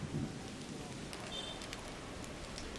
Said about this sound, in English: Look, rain.